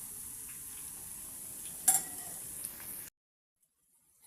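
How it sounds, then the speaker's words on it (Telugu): Spinach pakoras frying in oil give a steady close sizzle with a brief clink or stir near the middle, then the sound cuts to silence for the last second. "ఇప్పుడు దీన్ని మంచిగా 2 పక్కల బాగా వేయించుకుందాం. మంచి కలర్ వచ్చే విధంగా."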